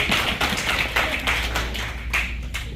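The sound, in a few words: audience applause for Joshi ji at a Hindi poetry gathering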